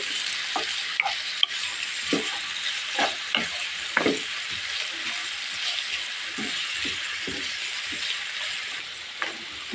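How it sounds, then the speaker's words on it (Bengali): Garlic paste is stirred as it fries in a pan for a homemade samosa snack, giving a steady close sizzle broken by repeated scrapes and taps of a spoon against the pan. "রসুন বাটা দিলাম একটুখানে এখন আমি সুন্দরভাবে নাড়াচাড়া দিয়ে নেব"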